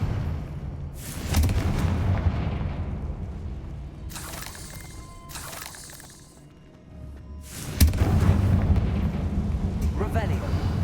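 Booming spell blasts from Bombarda and Confringo in Hogwarts Legacy, two heavy bursts several seconds apart with rumbling debris tails, a voice talking between them.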